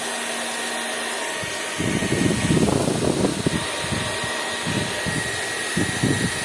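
A King Malin KSK434 2300-watt hair dryer switches on at its first setting, a steady broadband airflow whoosh with motor hum that rises sharply and holds close and loud, with no talking.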